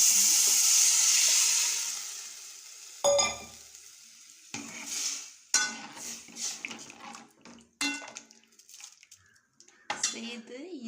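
Tamarind water and tomato go into a hot pan for rasam, setting off a loud hiss and sizzle that fades away, followed by scattered stirring clinks and splashes.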